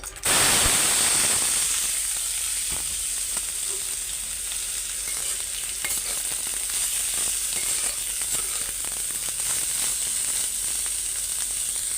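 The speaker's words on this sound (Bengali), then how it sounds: "করল্লা ভাজিটা আগে কইরা নেই তেল গরম হয়ে গেছে" Bitter gourd frying in hot oil in a home kitchen: a loud, steady, dense sizzle starts abruptly and carries on for the full twelve seconds, close up, with faint crackles scattered through it and no talking.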